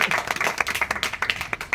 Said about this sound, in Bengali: তবু আমরা খুব জোরে একটা হাততালি দেবো এই দুজন কাজের জন্য